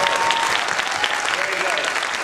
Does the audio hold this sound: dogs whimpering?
no